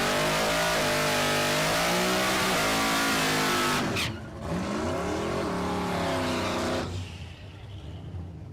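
A Duramax-powered Chevelle drag car accelerates hard down a dragway strip, its loud engine climbing steadily in pitch through several gear changes, then fading as it pulls away into the distance.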